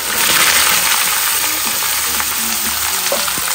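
Potatoes frying in hot oil with black cumin and dried chilli, a loud, steady close-up sizzle with faint clinks and stirring taps scattered through it.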